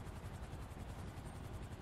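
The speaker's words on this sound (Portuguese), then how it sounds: "Caraca, os helicópteros vão bater." Helicopter in the game GTA V, a steady whirring rotor drone that stays constant and fairly faint throughout, with no talking.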